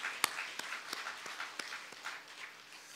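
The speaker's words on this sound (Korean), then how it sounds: "안 좋은 일을 더 좋은 일로 만들어내는 전문가가 하나님이시라는 걸 믿는 사람은 박수를." A church congregation claps during a Sunday worship service, a fairly faint, steady spatter of applause with a few sharper claps standing out, heard at a distance.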